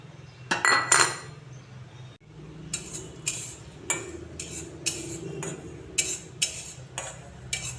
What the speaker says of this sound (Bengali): তিলগুলোকে এখন আমি ভেজে নেব।